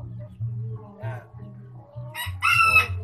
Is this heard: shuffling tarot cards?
no